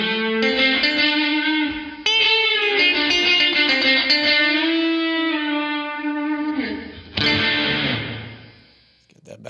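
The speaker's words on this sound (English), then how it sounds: "You can hear it's just the reverb." A drive-heavy guitar rings out through a Source Audio Lo-Fi pedal in uVerb mode, sustained chords washed in reverb with a trailing tail, a fresh strum near the seven-second mark, then fading.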